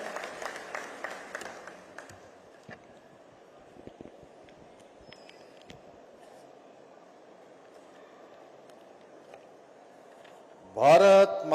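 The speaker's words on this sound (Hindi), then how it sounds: "जोरदार तालियों से माननीय मुख्यमंत्री जी का स्वागत," Audience applause bursts out loudly near the end, welcoming the Chief Minister at the inauguration of a newly built community hall, following a stretch of quiet murmur and scattered clapping earlier.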